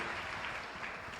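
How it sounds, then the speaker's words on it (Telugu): Congregation clapping loudly at a church prayer and oil anointing service in Ongole, a brief dense burst of sustained applause, even and steady, heard at a distance and fairly faint. "గట్టిగా చప్పట్లు కొట్టండి"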